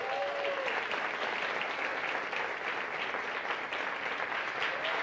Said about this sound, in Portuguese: muito aplauso, muito barulho para M.